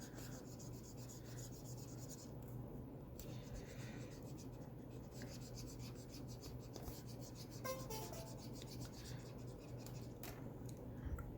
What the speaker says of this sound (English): I'm just gonna erase that.